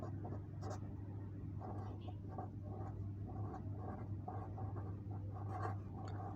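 Writing on a board or paper: a quick series of short scratchy pen strokes, close and rhythmic, repeating over a steady low background hum.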